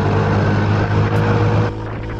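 A RUSI Classic 250 motorcycle engine drones steadily while riding, then drops in pitch and loudness as the rider eases off, close and continuous.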